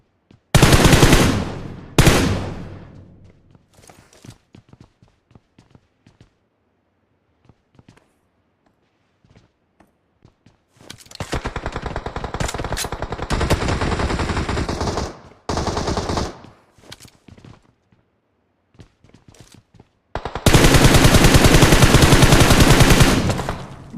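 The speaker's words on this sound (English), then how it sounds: "Those shots being let loose as Abubakar continues to try to see if he can get that guy" Automatic weapon fire in the battle royale game PUBG Mobile during an esports qualifier match: a loud close burst at the start, a long sustained volley in the middle, then another heavy rapid stream at the end, with scattered footsteps and quiet gaps between.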